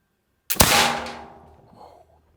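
A single loud flintlock pistol shot fired with black powder: a sharp crack followed by a bright, ringing decay that trails off over about a second and a half, heard alone at close range.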